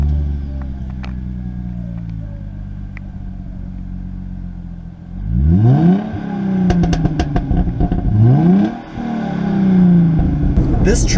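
Hyundai Genesis Coupe 3.8 V6 R-Spec engine revving: a quieter idle first, then loud rising and falling revs in repeated sweeps with sharp pops, close by.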